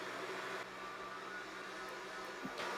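A Dreame X40 Ultra robot vacuum cleaner runs with a steady, fairly quiet broadband whir and hum, its tone shifting slightly as it moves around a sock, with a brief louder burst near the end.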